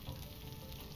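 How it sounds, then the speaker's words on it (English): Meat cooks over a campfire in the survival game Stranded Deep, giving a faint, steady sizzling crackle for a brief moment with no talk. "That should be enough fire to finish at least cooking this meat, if not smoking it."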